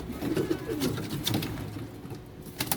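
Racing pigeons coo in a loft, several soft, low, rolling calls overlapping close by in an irregular rhythm, with faint rustling and no talk.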